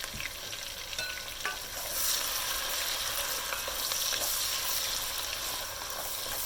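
Peppers and onions sauté in a pan, a steady soft sizzle with light stirring scrapes throughout, close and fairly quiet with no talk.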